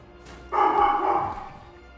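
Dogs indoors let out one longer, slightly muffled bark or yelp at moderate loudness, heard alone with no talking.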